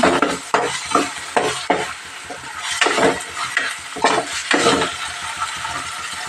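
A spoon stirring salt into a mutton curry in a pan, repeated scraping strokes in an uneven rhythm over a faint sizzle, close and fairly loud.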